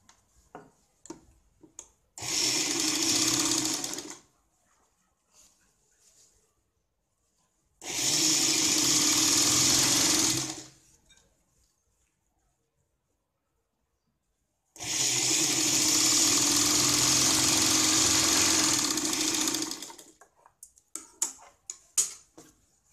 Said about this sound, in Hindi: अब इसको उल्टी साइड से यहाँ पे हम इस तरह से सिलाई लगाते हैं।